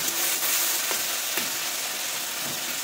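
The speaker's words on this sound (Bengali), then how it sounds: "সুন্দর করে আমি খুন্তি দিয়ে একটু টমেটোটাকে একদম মিক্স করে দিই।" Softened tomato being mixed in a pan with a spatula, a continuous close sizzle with a few soft scraping strokes of the spatula and no talking.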